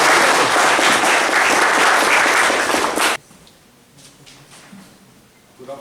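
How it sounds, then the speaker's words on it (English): Loud, dense audience applause fills a school hall during a cancer awareness talk to students, then cuts off abruptly about halfway through, leaving a quiet room with faint shuffling. "So we should give a big clap to Madam."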